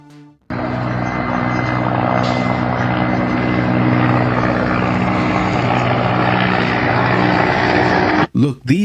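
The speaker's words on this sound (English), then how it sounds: "these are helicopters from the United States Delta Special Forces, which you are now seeing flying over Iraq" A loud, steady military helicopter rotor drone fills the scene, constant and close, flying overhead, with a rhythmic chopping throb throughout before it cuts off abruptly near the end.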